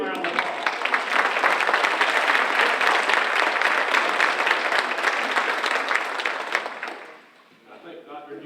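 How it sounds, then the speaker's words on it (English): Sustained applause from a banquet audience at a teacher of the year event, loud and dense for about seven seconds before tapering off into quieter room noise. "let's clap one more time for a big round of applause."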